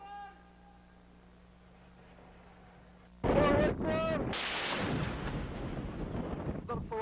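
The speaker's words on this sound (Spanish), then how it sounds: "Esto es un lanzamiento de misiles, ¿no?, de corto alcance." A short-range missile launches: after a quiet stretch, a sudden loud blast breaks into a sustained rushing roar with a few further bursts, and voices are heard around it.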